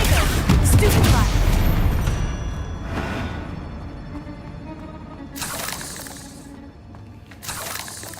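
Confringo and Stupefy spell blasts in Hogwarts Legacy crack out as a heavy opening burst, then sharper bright impacts follow a few seconds apart, loud and near, with background rumble between.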